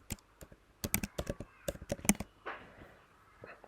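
Typing on a computer keyboard: a quick burst of sharp, close key clicks in an uneven rhythm, then a short softer rustle and a few faint taps as the typing trails off, with no talk.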